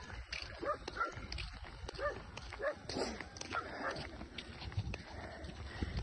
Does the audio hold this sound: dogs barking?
yes